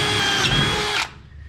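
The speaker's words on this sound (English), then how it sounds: "Drill in here and have it skid off and go all over the place." A power drill bores into the metal body of a 1951 Chevy Fleetline under restoration, a steady close whirring grind that stops abruptly near the end.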